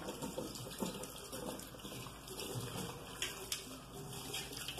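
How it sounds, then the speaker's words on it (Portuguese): Tap water runs steadily as a hammered aluminium pot is rinsed, a close, continuous splashing flow with small patters and knocks against the metal, and no talking. "Então, vamos lá enxaguar."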